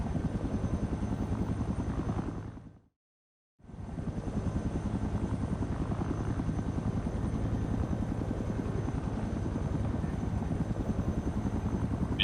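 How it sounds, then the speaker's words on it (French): Helicopter engines spool up for takeoff in the military game Project Reality, a steady loud rotor chop and turbine whine with a brief total dropout near the start, then continuous droning beat. "Écoutez bien le son des moteurs."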